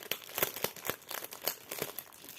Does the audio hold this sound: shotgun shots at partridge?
no